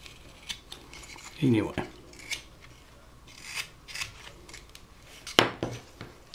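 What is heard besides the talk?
carving wood, rounding off rough edges with a knife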